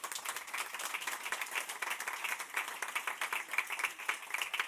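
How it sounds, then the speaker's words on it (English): An audience at a panel event on water resilience applauds the speakers, a fairly faint but steady ripple of many hands clapping throughout, somewhat distant. "I think they deserve a round of applause"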